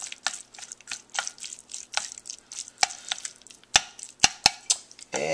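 Spicy sesame ramen noodles being stirred, a quick irregular series of wet clicks and utensil taps against the bowl or pan, close and clear, with no voices.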